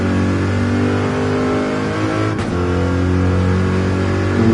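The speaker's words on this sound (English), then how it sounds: "Lovely sound of that Corvette." A Chevrolet Corvette race car in the Le Mans endurance racing game roars at high revs, a loud, dense, steady engine drone near the Mulsanne straight with a brief dip mid-way before climbing again.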